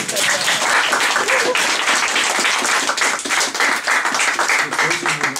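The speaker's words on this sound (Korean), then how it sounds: "박수 한번 주세요" Steady, dense applause from a lecture audience, continuous and fairly loud for several seconds with no voices standing out.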